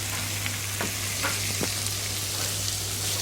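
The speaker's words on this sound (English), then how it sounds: "Okay, add all that in there and give it a stir through yet again" Greek gigantes butter bean mixture stirred in a hot pan, a steady soft sizzle with a few scraping spoon strokes, close and fairly quiet.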